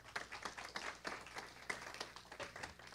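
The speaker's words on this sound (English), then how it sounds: "Can we have one more round of applause, please?" A church congregation claps for a reverend after a talk, a moderate, steady patter of many hands across the whole stretch with no voices over it.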